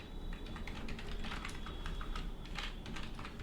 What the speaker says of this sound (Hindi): सेम नाम लिख देता हूँ ना, सुरेश